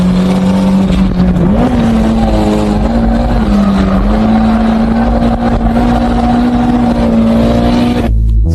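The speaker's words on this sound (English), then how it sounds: "So, how was drifting with an underpowered Hachiroku?" A Toyota AE86 Hachiroku drifting, its engine held at a loud, sustained high rev that steps up and dips slightly as it slides, close and dominant before cutting off abruptly at the end.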